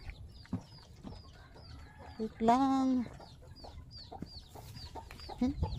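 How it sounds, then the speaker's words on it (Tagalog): Chickens cluck and chirp steadily around the listener while being fed, with a rooster's crow rising briefly in the middle and a person speaking a few words nearby. "Patuka tayo ng manok ha."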